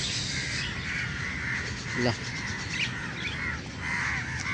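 A flock of crows perched on poles caws repeatedly at dusk, harsh calls overlapping at moderate distance with other birds chirping and a brief spoken word.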